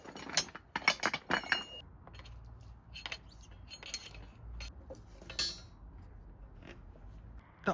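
Hand tools clink and click while undoing the top bolt of a front shock absorber on a BMW F11 520d, one Allen key holding the shaft while another key turns the nut; quiet, scattered metallic taps and ratchet-like clicks, close by.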